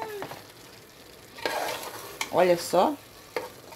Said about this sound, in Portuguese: Ó, tá refogando, gente.